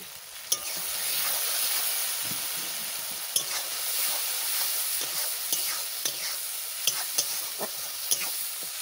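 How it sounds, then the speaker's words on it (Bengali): Turmeric, salt and spices fry in a pan with a steady bright sizzle, broken by sharp scraping stirs of a spoon at irregular moments; no voices. "মশলা ভাজা হয়ে গেছে"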